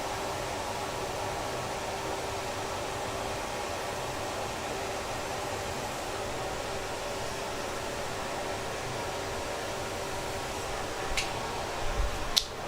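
A dust extractor runs in a woodturning workshop, giving a steady, even broadband whoosh that holds unchanged throughout, with a few faint clicks near the end.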